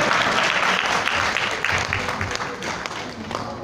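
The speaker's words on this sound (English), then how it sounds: "Clap for yourself." Church congregation applauding during a sermon on marriage, a loud, dense burst of clapping that slowly fades, with some voices mixed in.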